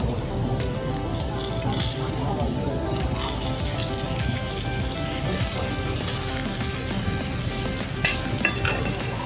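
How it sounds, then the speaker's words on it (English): Salt-grilled pork belly sizzles on a grill at a Korean barbecue, a dense crackling hiss that runs unbroken at close range, with faint spits and pops over it. "Today's real hero, salt grilled pork."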